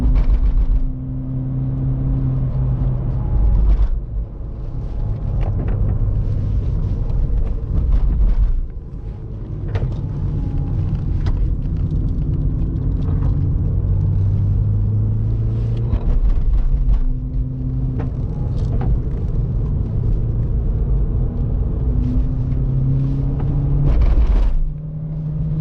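Volkswagen Jetta VR6 wagon fitted with a Remus exhaust pulls hard uphill, a loud in-cabin engine drone rising through the gears with brief dips at shifts, wind rumble underneath.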